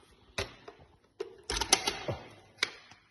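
A mechanical click as the bolt of an RDS (MK-19) rifle is seated during reassembly, with a few sharp, close metallic snaps and rattles spread over a few seconds, alone without talk.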